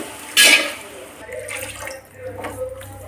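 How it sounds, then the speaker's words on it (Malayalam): Water is poured into a pot of chicken parts during home cooking, a short, loud splash near the start followed by quieter liquid sounds and low voices in the background. "കയ്യിൽ കുറച്ച് വെള്ളം ഒഴിച്ചു കൊടുക്കാം ആവശ്യത്തിന്."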